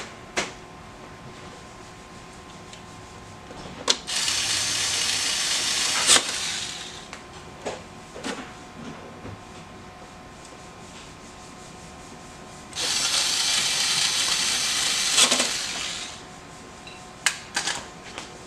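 Screws driven into a Xerox AltaLink C8000 printer, heard as two separate whirring, gritty bursts of a few seconds each, with light clicks and handling knocks in between.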